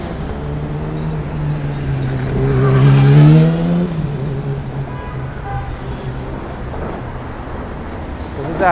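Traffic moves through evening streets in Manhattan between Hudson Yards and Times Square, with a vehicle engine rising and falling as it passes close by. A voice talks over the traffic.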